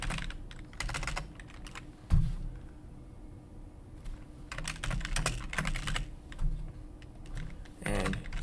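Computer keyboard typing a password while setting up an ASUS ROG Rapture GT-AX11000 router, with irregular bursts of close, clicky keystrokes separated by short pauses.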